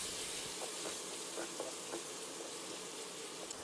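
Garlic, ginger and spices fry in a pan for Asian-style aubergines in sauce, a dense close sizzle with occasional soft stirring scrapes, no voices.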